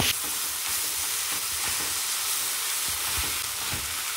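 Tomatoes sautéing with salt in a pan for paneer frankie, a dense, even hiss of frying that holds steady and loud throughout, with faint irregular stirring beneath it.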